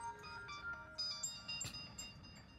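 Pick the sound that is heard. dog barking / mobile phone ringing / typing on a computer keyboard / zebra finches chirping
mobile phone ringing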